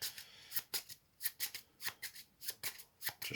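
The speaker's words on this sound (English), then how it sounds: "Just shuffling the patrol deck." A deck of patrol cards from the board game Maquis being shuffled on a table, a quick run of crisp riffling bursts with brief pauses between them, close and clear with no talking.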